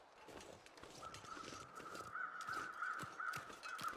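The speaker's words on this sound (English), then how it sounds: "crows have started circling the wolf" Crows cawing in The Long Dark, a survival game, circling a wolf carcass along a snowy coastline; harsh repeated caws rise over a low wind-like ambience, growing louder and denser through the second half.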